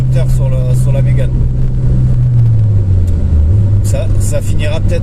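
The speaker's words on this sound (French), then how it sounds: "je mets un petit coup de rupteur sur la Mégane" A Renault Mégane engine bounces off the rev limiter while driving at night, a loud steady engine drone that falters and dips in pitch, with voices over it.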